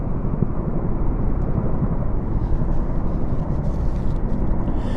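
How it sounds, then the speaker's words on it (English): Chinook twin-rotor helicopters pass overhead above London, a loud, continuous low roar and rumble with no distinct separate blade beats and no voices. "Distinctive double blades, rotary blades of the Chinooks."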